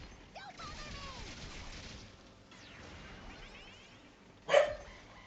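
A dog in the video game Hundred Line gives a single loud bark near the end, sharp and close, following quieter game ambience and a few faint whistling tones.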